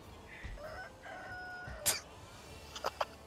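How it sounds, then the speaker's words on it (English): A chicken in the video game Sekiro clucks and squawks angrily in a few short, sharp bursts, mid-distance, with a brief loud flurry near the middle and quicker calls at the end. "that chicken is peeved."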